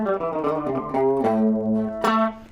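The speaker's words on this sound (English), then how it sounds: "That almost sounds like a slapback echo." Electric guitar played through a vibrato pedal at a setting that gives a doubled, slapback-like echo: a few sustained, ringing chords and notes with sharp picked attacks, loud and close, with no talking.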